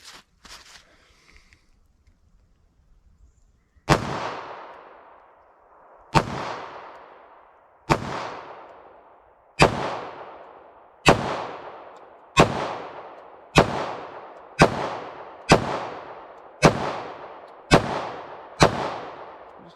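A Taurus G2C pistol fires 9mm rounds at a target on an outdoor range, about eleven sharp, loud reports that start widely spaced and then come in quicker follow-up shots, each trailing off into a short echo.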